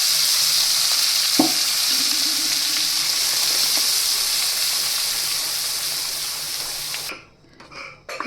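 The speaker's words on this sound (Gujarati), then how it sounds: "આપણે તરત જ આપણે જે ગ્રેવી બનાવી છે તેને એડ કરી દઈશું" Loud, steady sizzle as restaurant-style matar paneer gravy is poured onto hot spices and chutney in a pan and stirred, the hiss continuous for several seconds before dropping off near the end.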